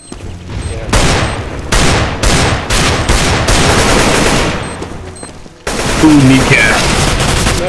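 Tec-9 and AK gunfire in CS:GO on the Aztec map, loud rapid bursts of automatic shots in repeated volleys, with a brief voice reacting.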